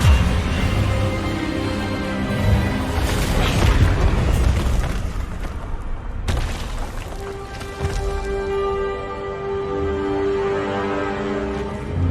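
The Expelliarmus spell in the video game Hogwarts Legacy bursts with a loud booming blast and rumble, followed by ringing magical tones that fade out over several seconds.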